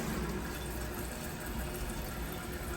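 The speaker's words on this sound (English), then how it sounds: "Now water's refilling." A toilet tank refilling after the water supply is turned back on, a steady, even hiss of rushing water with no break, heard close and alone.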